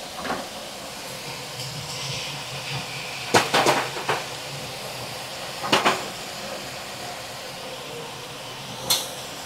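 Eggplant frying in white oil in a home kitchen pan, a steady soft sizzle and hiss with a few sharp clatters of utensils against the pan, fairly quiet and close.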